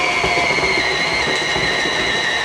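A stand mixer beats apple ring dough in a bowl, giving a loud, steady whirring motor drone with a constant whine and no breaks.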